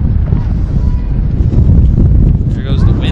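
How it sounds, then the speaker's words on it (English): Strong wind gusting across the microphone at an outdoor high school boys soccer championship match, a continuous loud roar and buffeting with no break. "Here goes the wind again."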